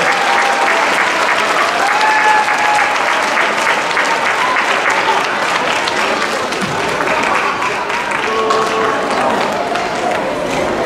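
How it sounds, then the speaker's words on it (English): Steady applause from a large crowd at a winter choral concert, dense and continuous throughout, with faint voices and cheers mixed into the clapping. "If we can get a round of applause for our parent boosters"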